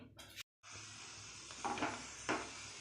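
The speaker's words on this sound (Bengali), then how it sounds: "তো চলো সবগুলো ভেজে নিই।" Pea-stuffed parathas fry in oil in a kadai with a steady, close sizzle that breaks off briefly, then resumes with a few louder surges and faint clinks of a utensil.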